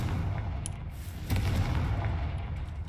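A Confringo fire spell blasts in Hogwarts Legacy, a deep rumbling boom with a sharper burst partway through over a steady low roar, fairly loud and without talk.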